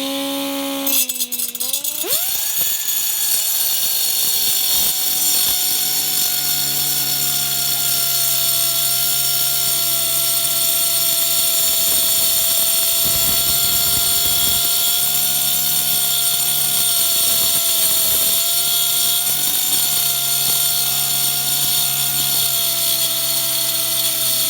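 A powerful air compressor drives a pneumatic tool during a Honda ball joint replacement, giving a loud, steady high-pitched whine that rises sharply at the start and holds for a long, unbroken run with slight pitch wavers.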